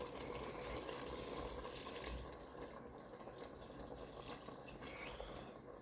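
Broth poured from a measuring cup over meat in a pot for pork goulash with mushrooms and pickled cucumber, a steady liquid splashing and trickling that runs for several seconds, close and fairly quiet.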